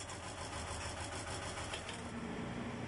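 Enclosed lifeboat engine running, a steady close mechanical drone with a dense rattling, idling texture that holds evenly for three seconds with no talk.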